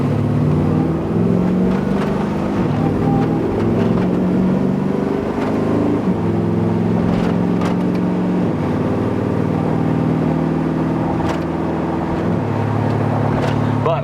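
LT4 V8 engine in a 1960 Chevrolet Apache truck with a dual-clutch gearbox on a test drive, a loud, steady rumbling drone with slight pitch shifts through gears, constant in-cab level, mostly without talk.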